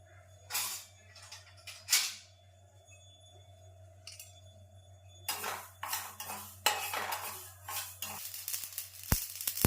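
Mustard seeds dry-roasting in a pan on a gas stove at home: light clinks and scrapes of a utensil, then denser crackling and rattling bursts in the second half over a steady low hum. No one speaks.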